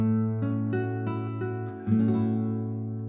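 A guitar tonic chord with an added sixth rings out, strummed several times with notes sustaining, then a fresh strum near the end lets the chord ring on.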